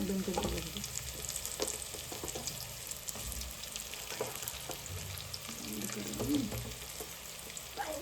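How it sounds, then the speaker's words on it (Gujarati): Pieces of palak dhokla are tossed into a hot tempering and stirred, producing a steady sizzle with scraping and clattering of the spoon against the pan. "તો જો આવી રીતે ઢોકળા નાખી દેવાના છે."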